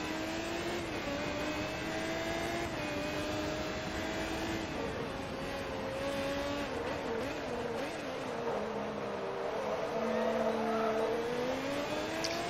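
A Pagani Zonda R race car in Forza Motorsport 2 roars steadily, its high-pitched engine note rising and falling through gear changes and revs, heard up close without talk.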